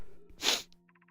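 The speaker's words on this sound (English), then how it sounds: "I'm gonna sneeze." A single sharp human sneeze bursts out loud and close, followed by a brief breath, with a faint game tone behind it.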